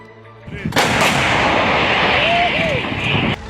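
Ukrainian artillery fires during the 2022 war with one loud, close blast that rolls into a long, rumbling roar, with a faint whistling tone near the end.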